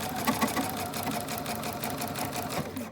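A sewing machine runs steadily while stitching a seam on a bomber jacket, giving a close, continuous whirring hum with a fast mechanical patter and no pauses.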